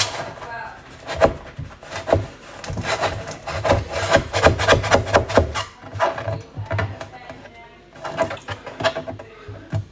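Old covering peeled and scraped off a kitchen cabinet surface, giving repeated rough rubbing and tearing strokes in uneven bursts, close and fairly loud, with brief pauses between pulls.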